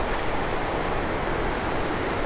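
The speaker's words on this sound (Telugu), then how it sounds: "అదిగా వాటర్ ఫాల్స్." A waterfall at Tarabu near Paderu, heard as a constant, loud, broadband roar of rushing water without pauses, close and unbroken for the whole short stretch.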